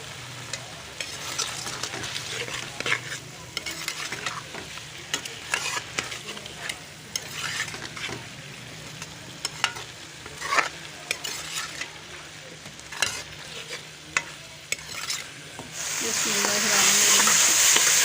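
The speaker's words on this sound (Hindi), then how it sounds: "ये मैं मटर शामिल कर रही हूँ।" Frozen peas are stirred into frying mutton mince with potatoes, with a spoon scraping the pan in irregular knocks over a steady sizzle, which grows louder and hissing at the end.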